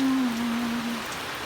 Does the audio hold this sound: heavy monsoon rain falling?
yes